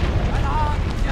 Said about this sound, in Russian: Взрыв! Бомба!